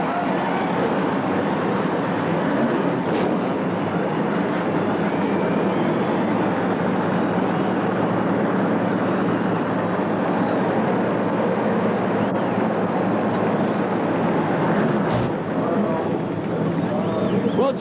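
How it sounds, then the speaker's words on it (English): Many NASCAR stock car engines start and rumble together at the 1994 Brickyard 400 at Indianapolis Motor Speedway, a steady loud roar of idling V8s heard from a distance. "Gentlemen, start your engines."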